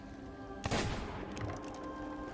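A single loud gun blast goes off in a pirate-themed video game, followed by a brief rattling burst of further shots that fade quickly.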